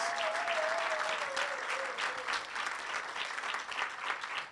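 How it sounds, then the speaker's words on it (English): A crowd applauds a Special Olympics team at a reception with South Africa's president, a dense wash of clapping that holds throughout with no pauses. "Let's give everyone a round of applause."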